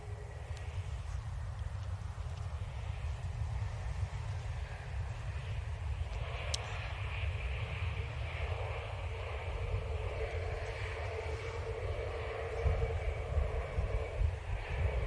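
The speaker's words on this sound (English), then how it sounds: "A321neo from Amsterdam." An Airbus A321neo from Amsterdam lands at Manchester Airport, a steady low jet rumble with a broad whine that swells slightly toward the end, heard from a distance.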